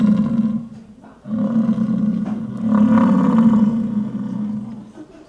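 Deep, rumbling bellowing calls from a smaller male bison, two drawn-out groaning roars separated by a short pause, close and fairly loud.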